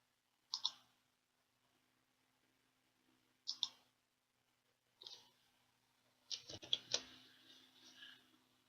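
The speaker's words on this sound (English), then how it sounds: "By clicking on the selection on the left, we find the obituary for Benjamin Foster." A computer mouse clicks in a quiet room, a few sharp isolated clicks spaced seconds apart, then a quick cluster of clicks near the end, close and crisp.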